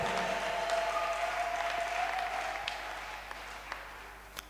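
Church congregation applauding and cheering for Jesus, dense sustained clapping and crowd noise that gradually fades, with a few sharp claps standing out near the end.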